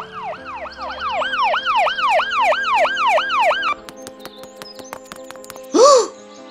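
An ambulance siren wails in rapid rising and falling sweeps, loud and close, then stops abruptly and gives way to clicks and a brief swelling tone near the end.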